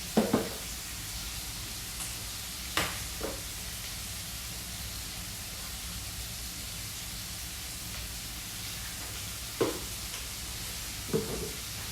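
Chicken and mung beans frying in a pan, a steady soft sizzle and hiss throughout with occasional sharper scraping stirs near the start and end.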